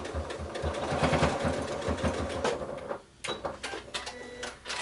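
Sewing machine stitching a scrappy quilted pouch, running in steady rapid bursts that slow and pause briefly before resuming, close and fairly loud with no talking.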